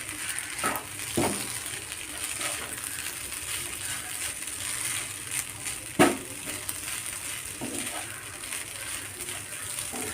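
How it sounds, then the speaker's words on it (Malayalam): A spoon stirs semiya (vermicelli) biryani in a pot, producing soft scraping and a few sharp metallic clinks against the pot side over a low background hiss, close and moderately quiet. "നന്നായിട്ട് ഒന്നും കൂടി ഇളക്കി കൊടുക്കുന്നുണ്ട്."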